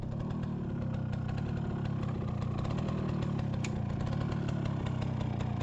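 A motorcycle engine runs at a steady idle beside a riverside cassava patch, a continuous close rumble with no pauses and no talking.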